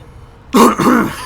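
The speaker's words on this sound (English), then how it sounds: "I swear that cough wasn't forced." One short, rough throat-clearing cough in two quick bursts, close and loud against a quiet background.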